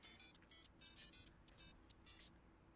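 A flip phone in a Mario video game rings with a bright electronic ringtone of short repeated chirping bursts in a quick rhythm, faint and alone.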